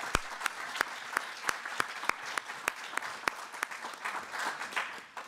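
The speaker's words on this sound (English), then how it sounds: "I think a round of applause is needed." Conference audience applause at a concluding session, a steady wash of clapping punctuated by loud, regular claps from one nearby person, fading slightly toward the end.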